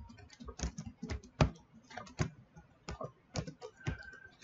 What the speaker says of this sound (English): I'm going to put on another line just so you can see what I'm typing in